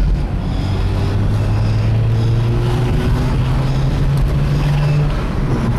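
A 2004 Mazda RX-8 accelerating, its engine note rising as a steady drone through the cabin, with a shift around the midpoint and constant road and wind rumble.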